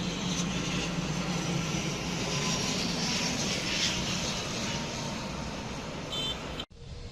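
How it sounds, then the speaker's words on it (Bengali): An ATR turboprop airliner roars loudly and steadily nearby as it lands, its engine drone holding throughout before an abrupt cutoff near the end. "একটি ছোট এটিআর মডেলের ডোমেস্টিক এয়ারলাইন্সের বিমান এই মুহূর্তেই অবতরণ করবে"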